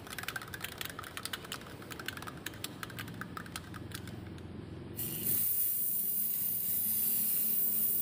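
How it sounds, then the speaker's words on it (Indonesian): A can of Loxus sealant spray shaken hard, its rattle clicking rapidly and steadily for about five seconds before giving way to a loud, continuous spray hiss. "Masih keras ya, kita kocok lagi."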